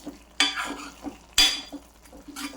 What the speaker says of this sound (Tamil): எண்ணெய் பிரிஞ்சு மேலே வர்ற வரைக்கும் வதக்கி எடுக்கணும்.